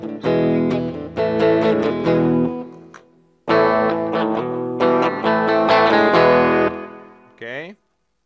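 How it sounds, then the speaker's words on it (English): Electric guitar with humbucker pickups played through a Yamaha keyboard's DSP delay effect, two phrases of plucked notes with repeats trailing off, ending in a brief voice. "Here is a delay."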